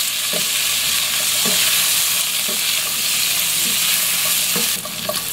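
Chicken feet sizzle loudly in a hot pan with salt and pepper, while a spoon stirs them in repeated scraping strokes over the steady frying hiss.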